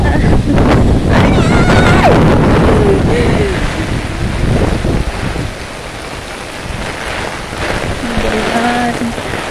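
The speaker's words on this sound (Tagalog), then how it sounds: "Malakas ng ulan." Heavy tropical downpour driven by strong, gusting wind in a whirlwind storm, roaring loud and continuous close to the microphone, with wind buffeting and surging throughout.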